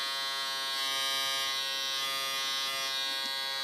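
A Braun Cooltec CT2cc electric shaver runs with a steady, loud, close-up buzzing hum that holds unchanged throughout, alone and without talk.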